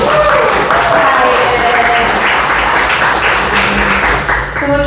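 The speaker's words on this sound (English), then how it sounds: "So give him a round of applause." Audience members at an annual downtown stakeholder meeting break into dense, sustained applause for a new board member, with steady clapping throughout and faint voices mixed in.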